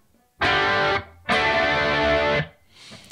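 Electric guitar with a chorus effect and no reverb rings out in two sustained strums, shimmering and slightly wide, with a brief fainter strum trailing at the end.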